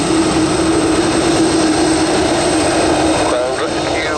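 Jet aircraft at Dublin Airport, a loud, steady, close engine roar and whine that holds without pause for several seconds, with a faint tonal sweep near the end.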